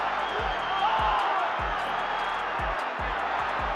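A boxing arena crowd roars steadily through a George Foreman fight, a continuous wash of cheering and whoops, with repeated low thumps beneath it and a commentator talking over the noise.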